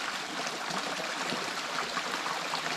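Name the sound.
flowing stream water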